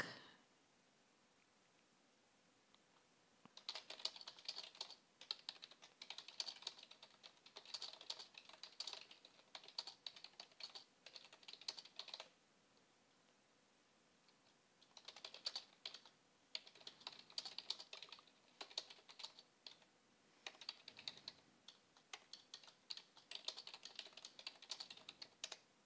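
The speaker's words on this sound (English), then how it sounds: "Oh, typing in Slack." Quiet, rapid keyboard typing in Slack comes in long, steady bursts of close clicking, broken by several pauses of near silence.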